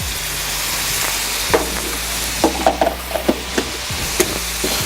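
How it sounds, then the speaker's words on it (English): Butter dipped in cornstarch sizzles in a hot pan for shrimp scampi, a steady loud frying hiss with scattered crackles and a few utensil clinks, close up and without speech. "you basically take your butter, dip it in your cornstarch, pop it right in"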